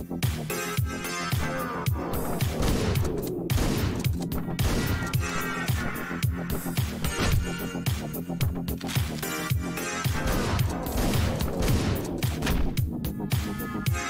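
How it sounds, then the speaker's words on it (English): Gunfire in the video game Hotline Miami, with rapid repeated shots and booming impacts layered over dense, driving game music throughout. "Everybody can hear them gunshot."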